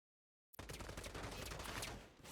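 Automatic turret fire in the shooter game Strinova: a sudden burst of rapid gunfire begins after a short silence and rattles on continuously and loudly to the end, with no talk over it.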